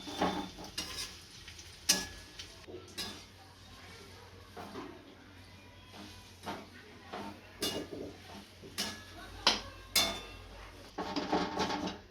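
Softened dates being stirred and heated in a pan for date ladoo, with irregular scraping and clinking of a spoon against the pan over a faint, steady sizzle, fairly close and moderate in volume.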